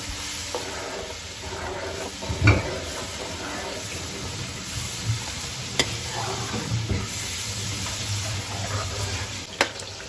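Steady frying sizzle with occasional scraping knocks as a spoon stirs a blended spinach and meat mixture in a pan.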